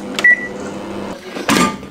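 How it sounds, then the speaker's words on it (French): A microwave oven heating Thai takeaway of vegetables, rice and chicken hums steadily up close, with a short click or clunk near the start and a louder clatter near the end. "Je vais mettre au micro-ondes et on va manger."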